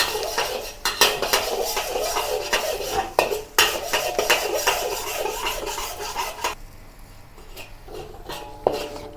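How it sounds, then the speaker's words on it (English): Chopped garlic sautéed in a wok for a Chinese beef and mushroom stir-fry, heard as dense metallic scraping and clanking of a utensil against the pan, with a faint sizzle underneath and a quieter stretch near the end. "Saute the chopped garlic until aromatic."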